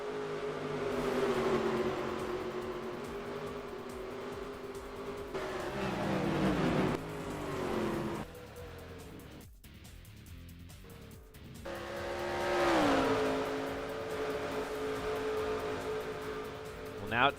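Stock cars from NASCAR Racing 2003 at Richmond, including the 81 Dodge Charger, drone steadily with engine pitch rising and falling through laps, a brief lull mid-lap, while a voice commentates throughout.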